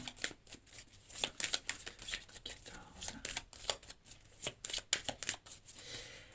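Tarot cards shuffled and drawn, close and fairly quiet, a rapid series of crisp papery riffles and flicks repeating throughout.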